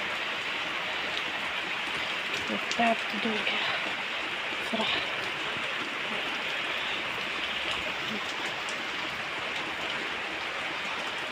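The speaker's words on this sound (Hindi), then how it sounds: "पूरे दिन से बारिश बंद नहीं हुई है, कितनी ज़्यादा हो रही है ये।" Steady heavy rain hisses continuously throughout in a Himachal village, with a brief spoken remark partway through and a few faint knocks.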